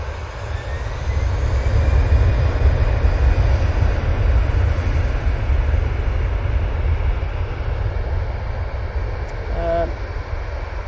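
An Etihad airliner at Manchester Airport on runway 23 right, its engines a steady, loud, close broadband roar that holds for the whole stretch, with a faint voice briefly near the end.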